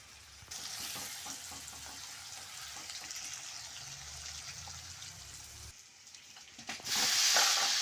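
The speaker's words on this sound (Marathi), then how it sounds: "आता आजीने तेल टाकून ते व्यवस्थित चांगले परतून द्यायचे" Peanuts and green chillies sautéing in oil in a kadhai for a spinach and dill sabzi, giving a steady close sizzle with scattered stirring scrapes, louder and brighter near the end.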